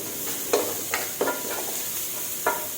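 Red chilies stir-fried in a pan for an Isan-style tilapia curry: a steady soft sizzle with four sharp spatula scrapes spaced irregularly against the pan, close and fairly quiet, no talking.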